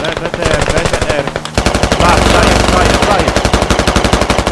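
Rapid automatic gunfire from infantry combat in the Squad military video game, loud sustained bursts of machine-gun fire with dense overlapping shots, some heavier than others, continuing throughout without a pause.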